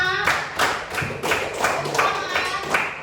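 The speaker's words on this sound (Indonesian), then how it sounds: "Tepuk tangan untuk kita semua." A primary-school class of fifth graders claps together during a social studies lesson, a series of loud rhythmic bursts of hand claps repeating roughly every half second, with a voice speaking faintly underneath.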